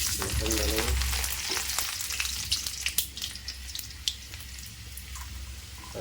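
Red chilies and garlic frying in hot mustard oil, a continuous sizzle with scattered crackles, pops and stirring scrapes close by.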